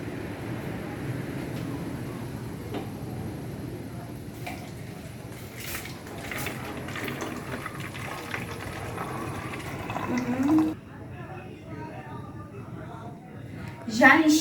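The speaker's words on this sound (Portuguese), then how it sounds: "Em todas essas garrafas eu vou colocar água morna." Warm water poured into five plastic bottles one after another, a steady splashing and trickling stream running close by, with brief pauses and a louder gurgle near the end as the last bottle fills.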